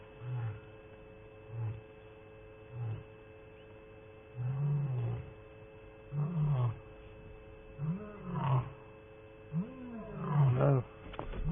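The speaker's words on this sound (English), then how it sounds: "That there's a big black maned lion." A big male black-maned lion roars outside a wildlife reserve: a series of deep grunting roars, short at first, then longer, louder bouts building in a rhythmic sequence over a steady electrical hum, somewhat distant, with no talking.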